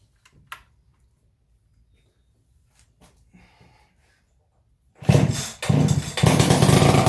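An old Stihl 031AV chainsaw being started: a few faint pulls and clicks for five seconds, then the engine sputters and catches into a loud, rough, uneven run that dips briefly and picks up again.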